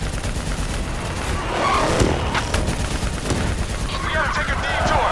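Sustained gunfire aimed at a VTOL aircraft in the Call of Duty Black Ops 3 campaign, a loud, dense automatic barrage with overlapping bursts and rumbling battle noise, and shouted voices breaking through.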